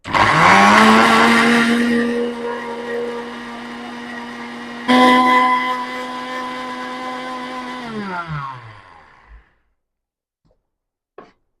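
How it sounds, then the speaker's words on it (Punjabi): An electric grinder whirs at full speed through dried red chillies, loud and close, then stops and starts again for a second long run before spinning down to silence, ending with a faint click. "ਹੁਣ ਇਹਨੂੰ ਆਪਾਂ ਪੀਸ ਲੈਨੇ"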